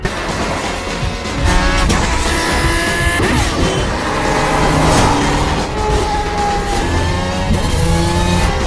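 Supercar driven recklessly in a film chase, engine roaring loud and sustained with rising revs, tire noise and passing traffic mixed in over a dense soundtrack.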